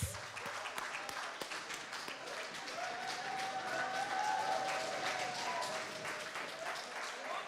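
Sustained applause from a conference audience, a dense wash of clapping that holds steady throughout, with faint crowd voices mixed in.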